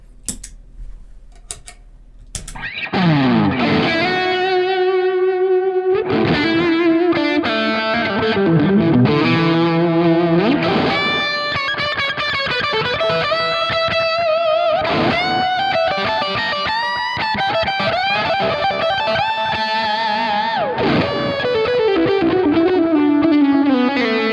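Distorted electric guitar plays sustained lead notes and bends, each phrase trailing off in echoing repeats that blur together.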